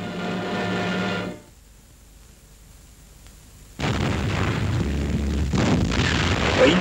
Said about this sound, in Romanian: O intensă acțiune de artilerie pregătește deslănțuirea atacului armatei a treia.